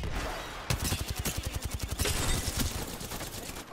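Rapid automatic gunfire from an Apex Legends match rattles off in a fast, steady string of close, loud shots that runs for several seconds after a brief quieter lead-in.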